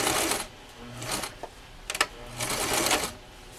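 A sewing machine back stitching the fabric of a hand tool tote bag, its motor whirring in short close bursts with brief pauses between runs, no talk over it.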